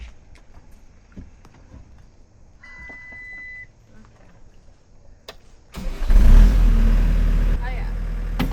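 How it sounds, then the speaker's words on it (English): A new skid steer's engine starts up partway through after quiet clicks and faint beeps, then runs loudly at a steady rumble close by. "Thankfully, Heath bought a new skid steer, so I can use that to go get myself unstuck"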